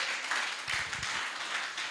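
Audience at an export summit applauds in a steady, moderately loud wash of many hands clapping, brief and continuous, with a faint voice briefly underneath.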